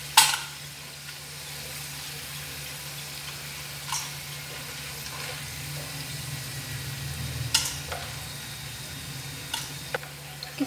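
Green banana slices fry in hot oil, a constant soft sizzle and bubbling with occasional clinks and stirring taps from utensils.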